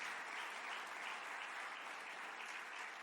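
A church congregation gives sustained, even applause at a worship service, a dense wash of many hands clapping at a moderate distance with no talk over it.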